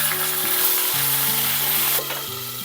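Curry leaves, coriander and green chillies frying in oil in a pan for a masala eggplant curry, a loud close continuous sizzle with a few stirring scrapes and no talk.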